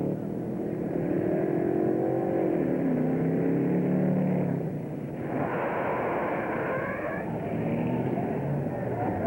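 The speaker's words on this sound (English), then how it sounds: "Team captain is Bill Bryson, who is driving the truck right now." A 1965 fire truck's heavy engine roars steadily throughout at a fire drill, its pitch rising and falling as the truck drives and shifts, with a faint voice underneath.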